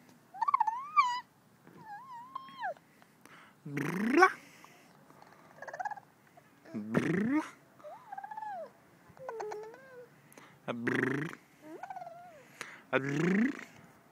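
A cat meows repeatedly in short rising and falling calls, interspersed with a person's soft, high-pitched voice.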